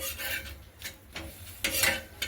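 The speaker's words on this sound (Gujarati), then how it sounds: "જ્યારે આપણે ભાખરીને શેકવાની હોય ને ત્યારે આ રીતે આપણે પ્રેસ કરતા શેકવાની છે" A bhakhri flatbread pressed down as it roasts on a griddle gives soft rasping, scraping rubs in a few short strokes, close and fairly quiet, with a faint sizzle underneath.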